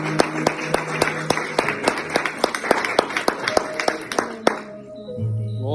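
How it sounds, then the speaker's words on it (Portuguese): A church congregation claps in a steady, even beat for about four seconds, with sharp, regular claps over a murmuring room. The clapping stops and a sustained tone carries on alone. "Você pode aplaudir o Senhor."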